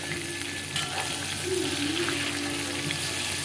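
Prawns frying in oil in a pan make a steady, bright sizzle with a watery hiss, fairly close and continuous, alongside a faint low hum from the room.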